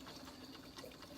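Espresso trickles from a SOWTECH espresso machine into a cup, a steady, close liquid hiss and patter that runs unbroken.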